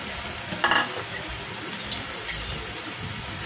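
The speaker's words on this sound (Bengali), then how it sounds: "আপনার যেভাবে ইচ্ছা ওইভাবে লাড়াচাড়া দিয়ে আপনারা ভেজে নিতে পারবেন" Shrimp frying in a pot for a shrimp and potato curry while being stirred, a soft steady sizzle broken by a couple of brief scraping stirs, fairly quiet and with no talking.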